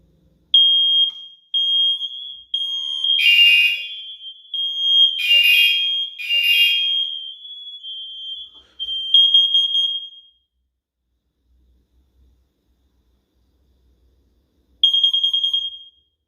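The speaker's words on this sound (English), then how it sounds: "then we'll test the smoke alarms and show you how they're interconnected with the system" Loud, high-pitched interconnected smoke alarm beeps from a fire alarm system test, blaring in several bursts, overlapping at times, then falling silent before one final short burst.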